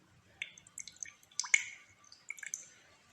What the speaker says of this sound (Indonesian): kemudian peras airnya